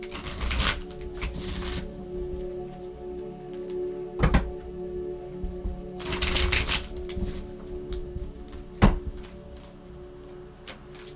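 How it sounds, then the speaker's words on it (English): Playing cards being shuffled close up, with repeated riffling bursts and sharp snaps of cards settling, no talking. "You want me to really shuffle?"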